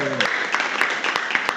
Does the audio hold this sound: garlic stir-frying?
no